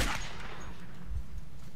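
A pistol shot in the Metro 2033 game cracks out loud right at the start, followed by a dull low thud about a second later against a quiet rumbling background.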